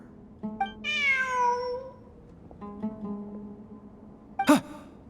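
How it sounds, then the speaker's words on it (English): Video game cat in Return of the Mysterious Realm meowing: a long drawn-out meow, then a shorter second one, and a sharp brief cry near the end, close and clear over a low background hum. "Look! A cat!"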